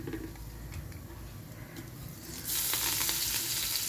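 Green chili and garlic paste hits hot tempering oil with cumin, bursting into a loud, bright sizzle partway through after a quieter stretch of faint ticking and crackle, then holding steady and close.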